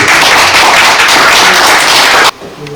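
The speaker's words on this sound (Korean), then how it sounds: "다시 한번 힘찬 박수 부탁드립니다" Audience applause closing a lecture on early Joseon Confucian culture and Seonggok Seowon in Geumsan, Korea: dense, loud, steady clapping that fills the room for about two seconds, then stops abruptly into near silence.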